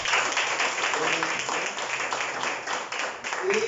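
A church congregation at a worship service applauds in a broad, sustained wash of clapping, moderately loud and even throughout, with no clear voices over it.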